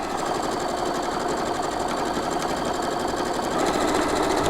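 A sewing machine stitches a straight line across a chenille quilt block, its steady fast running whir continuous and close throughout, with no talking.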